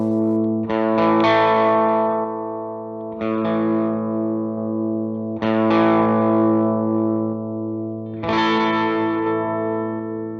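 A distorted electric guitar rings out with four strummed chords through a Line 6 Helix, each sustaining thickly with a slight 1 kHz midrange boost and shimmering effects.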